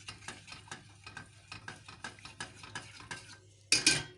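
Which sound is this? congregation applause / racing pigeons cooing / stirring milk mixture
stirring milk mixture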